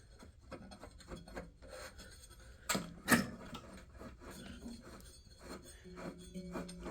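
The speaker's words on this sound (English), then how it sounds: "If I can ignore the sound of that scraping on that right there." A Husqvarna mower deck pulley gives off quiet, irregular raspy scraping with a couple of sharper metallic scrapes in the middle, close up and faint, with no talking.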